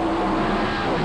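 A big pack of NASCAR stock cars roars past on the oval track in a dense, steady wall of engine noise, loud and continuous with no talk over it.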